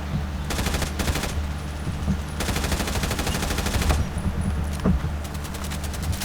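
A video game gun fires in several loud, close, rapid-fire bursts separated by short pauses, with the longest burst in the middle and a low engine-like hum underneath.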